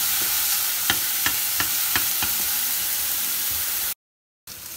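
Bread and potato cutlets fry in a shallow layer of oil in a home kitchen, giving a steady soft sizzle with a few light clicks of a spatula, then a short break in sound before it resumes.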